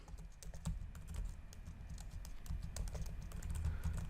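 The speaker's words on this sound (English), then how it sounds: "my typing is not going good" Continuous rapid typing on a computer keyboard while coding in Python, dense close-up key clicks with an uneven rhythm over a low background hum, with no talk.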